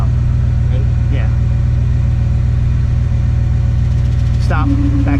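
Drivetrain of a 1977 Dodge Power Wagon W150, parked for 20 years, with the engine running loud and steady as the clutch is slowly let out, a low rumbling drone throughout and a brief voice near the end.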